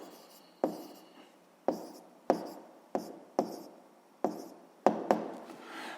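Pen strokes writing an answer by hand during a grade-6 maths exercise, a run of about nine short scratchy bursts, each a sharp onset that trails off, close and fairly quiet with no speech.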